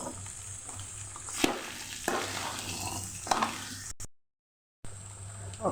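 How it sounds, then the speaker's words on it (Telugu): Vegetables sizzling and frying in a pan for Telugu punugulu, a steady crackle with a few spoon scrapes as they are stirred, close up and alone, cut by a brief gap of silence. "ఆ పక్క ఇది వేగుతుందండి."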